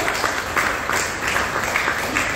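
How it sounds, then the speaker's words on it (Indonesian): An audience applauds a speaker at a talk on impeachment and constitutional change, a steady wash of many hands clapping at even loudness for a couple of seconds, with no voices over it. "minta tolong kepada para audiens untuk bisa memberikan aplaus kepada beliau"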